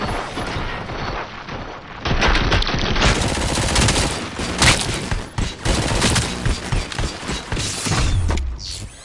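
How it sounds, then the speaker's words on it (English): Sustained automatic gunfire in the Robocop Rogue City video game, loud and dense, with rapid overlapping bursts and mechanical clatter running almost continuously for several seconds. "Fire at will."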